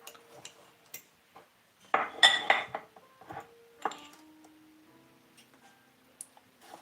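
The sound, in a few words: taking a teaspoon off a ring of measuring spoons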